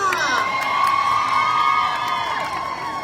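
A crowd at a fan event in Maha Sarakham cheers and whoops for a singer, with excited shouts and high voices rising over a steady, loud roar of sustained cheering throughout.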